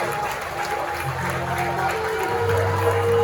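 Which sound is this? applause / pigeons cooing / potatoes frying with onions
applause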